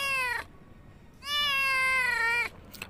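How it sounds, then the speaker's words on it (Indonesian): A cat meowing twice, a short cry followed by a longer, drawn-out meow, both clear, close and alone against a quiet background. "tiba-tiba Jaki dan Udin ini mendengar suara kucing."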